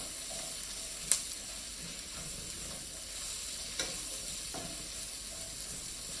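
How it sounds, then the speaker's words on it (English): Mushrooms and onions sizzle in oil in a skillet, a soft continuous frying hiss punctuated by a few light clinks and scrapes as they are stirred, heard close and without voices. "I'm going to go ahead and add my mushrooms"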